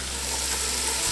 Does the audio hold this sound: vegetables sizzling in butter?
yes